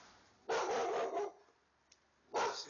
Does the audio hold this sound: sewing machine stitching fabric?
no